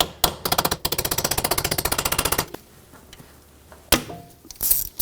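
A ratchet on a 10mm bolt at the ABS wheel-speed sensor of a 2012-2017 Toyota Camry clicks in a fast, even burst of about twenty loud, close clicks. A few scattered knocks and clunks of handling follow.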